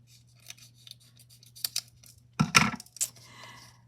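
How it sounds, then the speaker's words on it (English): Scissors snip off a part of a vintage earring, giving a few small crisp metallic clicks and one louder sharp cut near the end, close-up in a quiet room with no talking. "Let me just snip this off."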